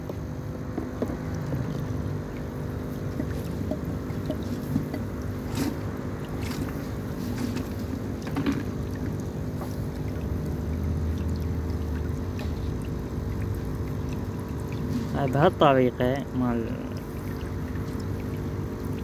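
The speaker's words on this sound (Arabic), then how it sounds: "الشافطة مال الاوساخ تسحب القاع" A siphon draws dirty water and debris from the bottom of a guppy aquarium, making a steady close rushing, sucking hiss, with a brief spoken phrase near the end.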